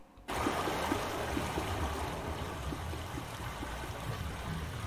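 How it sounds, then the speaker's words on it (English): Water rushes through pipes in the Myst video game, starting abruptly after a brief quiet moment and then running as a steady, even stream with faint rhythmic ticking beneath it. "we now have water traveling through the pipes"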